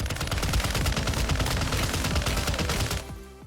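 Rapid automatic gunfire in the shooter game Warzone 2.0, a loud dense burst of shots that runs for about three seconds before abruptly stopping, leaving a fading tail.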